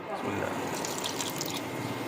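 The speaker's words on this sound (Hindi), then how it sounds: "इसके अंदर थोड़ा सा पानी डालेंगे और इसकी भुनाई कर लेंगे थोड़ी सी आंच तेज़ करके" A little water is poured into masala frying in a pan for aloo chicken, giving a brief splash and sizzle close by that settles into a bubbling fry, while someone talks over it.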